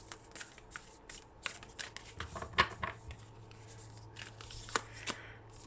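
Oracle cards being shuffled by hand, a run of soft crisp riffles and slides at close range with a faint low hum beneath, no voices.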